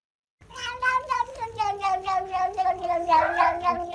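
A pet cat meows repeatedly in a quiet room, a string of close, clear, drawn-out calls rising and falling with short gaps between them.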